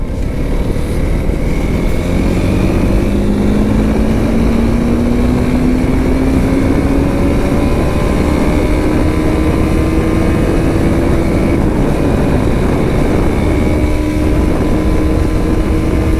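An RTX 300 motorcycle rides the highway in rain mode in fourth gear, its engine droning loud and continuous with a slowly rising pitch as it accelerates, heavy wind rush underneath.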